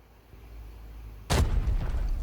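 A grenade goes off in the shooter game Arena Breakout: a quiet ringing hum gives way to one sudden, loud, booming blast that decays into a rumbling tail, with no talking.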